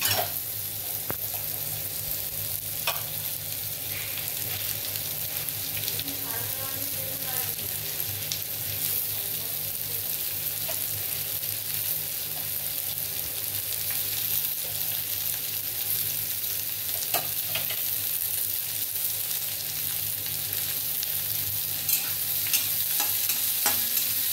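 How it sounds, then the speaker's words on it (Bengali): Onion and garlic fry in mustard oil with a steady, continuous sizzle. Stirring scrapes and clatters along close by throughout, with no voices. "পেঁয়াজ রসুন সর্ষের তেলে আমি একটু ফ্রাই করে নিচ্ছি"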